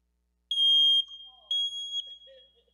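A smoke detector gives sharp, piercing high-pitched chirps, two main beeps about a second apart, loud and close, followed by faint trailing tones in an otherwise quiet room.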